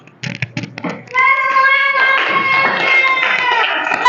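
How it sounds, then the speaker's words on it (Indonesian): A few scattered claps from students in a classroom open the moment, then give way to a bright, sustained tonal sound, probably voices, that carries on to the end. "Tepuk tangan dulu ketika teman kalian luar biasa."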